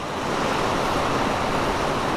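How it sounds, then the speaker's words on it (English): Dense, steady roar of a heavy rainstorm pouring down on a KTM 890 Duke R motorcycle ride, a constant loud wash of noise with no breaks. "Look at this torrential downpour."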